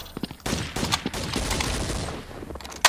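Rapid gunfire fills an online first-person shooter match, with dense overlapping shots and bursts close and loud for nearly three seconds, ending in a sharp final crack.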